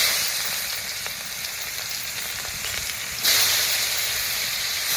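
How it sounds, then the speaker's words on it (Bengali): Chopped onions sizzle and fry in hot oil with dried red chillies and whole cumin seeds, a steady close hiss that grows louder and brighter partway through as the onions hit the pan and are stirred. "একটু নেড়ে চেড়ে কেটে রাখা পেঁয়াজগুলো দিয়ে দেবো।"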